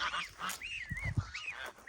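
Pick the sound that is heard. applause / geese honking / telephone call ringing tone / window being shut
geese honking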